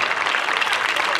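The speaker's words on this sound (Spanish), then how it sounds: "¡Fuerte el aplauso!" Dense applause from a crowd, steady and energetic clapping filling the whole moment.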